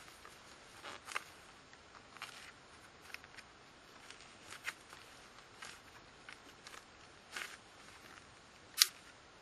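A carbon rod salvaged from an old battery snaps and cracks in a series of sharp, brittle clicks and ticks spread irregularly, ending in one louder crack, close up with no talking.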